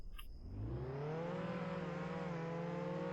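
Roblox Jailbreak game car fitted with a level 5 engine launches hard, its engine whine climbing steeply in pitch and holding loud and close for about three seconds, with no talk over it.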